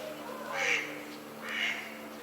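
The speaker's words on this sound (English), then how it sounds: "Hello, little duck." A duck on a town stream in Memmingen, Germany, gives two separate quacks about a second apart, close and clear over a low steady background hum.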